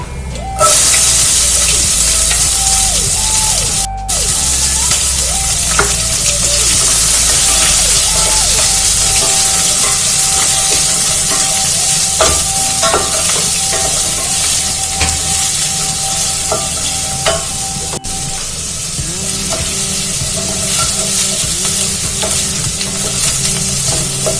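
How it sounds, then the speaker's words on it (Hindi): Onions for Mumbai-style kanda poha fry and get stirred in hot oil, a steady loud sizzle running the whole time with scraping spoon strokes breaking through now and then. "इनको अच्छे से ऑयल के अंदर ब्राउन करेंगे। अब प्याज डालेंगे थोड़ी।"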